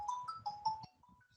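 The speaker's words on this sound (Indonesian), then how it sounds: "Bentar ya Ibu angkat telepon Pak Saiful." A phone ringtone chirps in a quick run of bright electronic tones, fairly loud and close, then trails off into quieter notes over faint background noise during an online trigonometry class.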